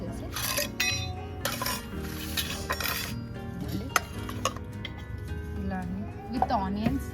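Sliced onions being mixed into grilled chicken in a bowl, with clinks and scrapes of a utensil against the dish under a person talking in Telugu throughout.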